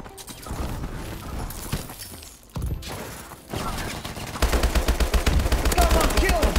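Rapid gunfire from the video game Call of Duty Advanced Warfare crackles in bursts, growing into a dense, loud stream of automatic shots near the end.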